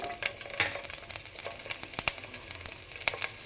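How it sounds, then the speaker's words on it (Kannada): Garlic frying in a pan for a roasted chana dal chutney powder, a steady close sizzle with scattered crackles and sharp pops from stirring, fairly quiet and free of talk. "ಬೆಳ್ಳುಳ್ಳಿನೂ ಹಾಕ್ಬಿಟ್ಟು ಸ್ವಲ್ಪ ಫ್ರೈ ಮಾಡ್ಕೊಳ್ಳಿ"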